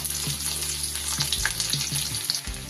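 Inch-long pieces of ginger fry in rice bran oil, a steady close sizzle and crackle with scattered pops and clinks of stirring, with no talking.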